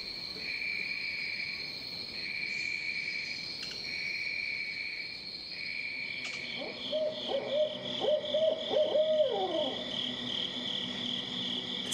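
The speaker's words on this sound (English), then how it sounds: "the cicadas and crickets and nocturnal birds emerge" Night crickets trill in steady high pulses while an owl hoots repeatedly in the middle distance, its calls rising and falling over the insect chorus.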